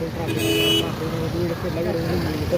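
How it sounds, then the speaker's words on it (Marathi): Heavy road traffic on the busy road to Mahalakshmi in Kolhapur rumbles continuously, with a car horn sounding clearly for about half a second early on. Voices murmur underneath. "आत्ताच ट्रॅफिक बघा किती फुल ट्रॅफिक आहे"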